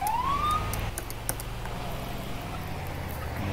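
Siren from an ambulance in GTA FiveM roleplay, a brief rising wail at the start that fades out, leaving a steady low engine drone with a few faint clicks.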